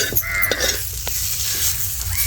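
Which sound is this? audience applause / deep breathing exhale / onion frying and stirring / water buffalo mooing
onion frying and stirring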